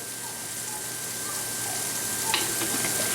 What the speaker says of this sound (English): So what I'm doing now is I'm frying up my onion